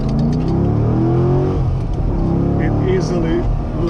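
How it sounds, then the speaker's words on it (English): A 2009 Chevrolet Corvette C6 3LT accelerates hard from low speed, its engine roaring loudly and steadily as it climbs toward 60 mph, heard from inside the car while someone talks over it. "It's stupid fast. That was 60 miles an hour like that, just fast like that."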